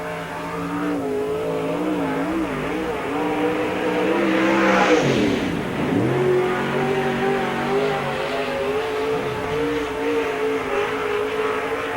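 A race car on a qualifying lap at Spoon River Speedway, a dirt oval, roars past loud and near: the engine builds, swoops sharply in pitch as the car passes, then carries on steady and strong.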